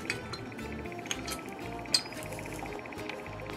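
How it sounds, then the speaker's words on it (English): A metal wire handle is pushed down to free a sparkling wine bottle during disgorging, giving a few faint, light clinks of metal on glass over a steady low room hum. "now I'm going to take my wire handle, push this down so I can free the bottle"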